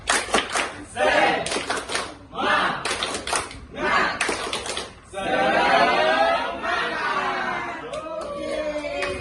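A group doing a tepuk semangat spirit-clapping routine during a school coaching session, with bursts of rhythmic clapping and loud chanted voices, followed by a stretch of dense crowd noise.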